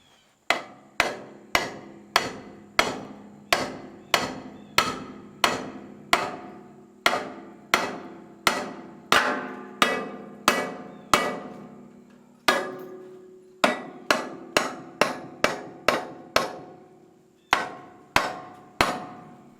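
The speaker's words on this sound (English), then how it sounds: "that little sledgehammer on top of that craftsman box." A small sledgehammer strikes the metal of an old 1970s Insley H800 excavator outdoors, with about thirty loud, sharp blows falling in a steady rhythm. Each blow rings briefly, there are a few short pauses, and no voices are heard.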